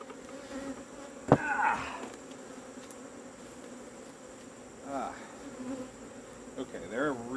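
Angry bees buzz steadily and close by, their droning swelling in several bursts as individual insects fly near, with a sharp knock early on and a person's voice occasionally in the background.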